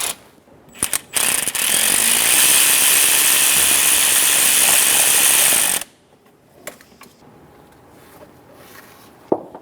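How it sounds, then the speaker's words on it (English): A ratchet spins steadily for about four seconds, loosening the 12mm bolt at the bottom of the tensioner on a 2003-2007 Honda Accord, with a few clicks and clanks before and after. No one speaks. "Remove the 12mm bolt on the bottom of the tensioner."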